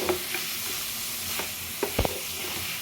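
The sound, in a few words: stirring crab masala in a frying pan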